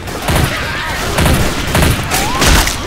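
Loud, close gunfire in the video game Left 4 Dead 2, several rapid shot bursts in a row, with game noise and voices underneath.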